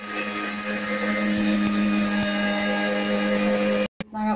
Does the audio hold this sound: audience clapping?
no